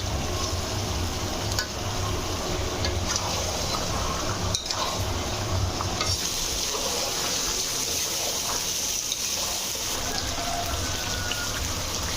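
Potatoes and chicken pieces fry in a pan for a Bengali chicken kosha, a steady loud sizzle and crackle with occasional stirring clatter, no talk.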